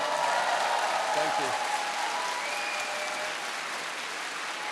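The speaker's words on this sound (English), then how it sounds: "Give him a round of applause." A convention hall audience at a Comic-Con Scotland Q&A panel bursts into sustained applause, dense and steady for several seconds, with a few voices calling out over the clapping.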